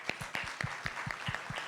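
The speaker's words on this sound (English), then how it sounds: "Clap for yourselves." Audience applause at a light-hearted gathering of reformed Kenyans, with steady, moderately loud clapping and sharp individual claps recurring in an even rhythm, and no voices on top.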